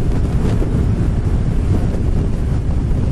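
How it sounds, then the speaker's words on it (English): Steady heavy wind roar buffeting a motorcycle helmet microphone while riding, loud and continuous with deep low rumble and no other sounds. "It's very windy."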